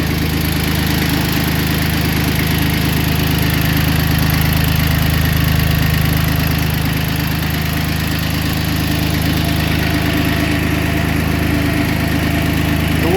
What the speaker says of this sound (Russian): Идеальная работа двигателя.